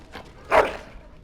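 A single short dog bark or yip from the fantasy role-playing game Dragon Age: Origins, one brief loud burst standing alone against quiet background.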